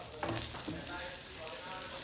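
Beef roast for a home-style dish sizzles steadily in a pan while being stirred, a soft, continuous frying hiss with a few scraping stir sounds early on, fairly quiet and with no talking.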